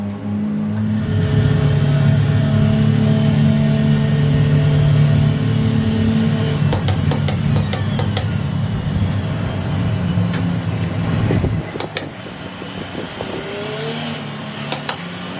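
The Porsche 919 Evo LMP1 with its V4 engine, driven in the racing game Assetto Corsa, gives a loud sustained engine drone that holds steady, then drops away sharply near the end with brief clicks and pops.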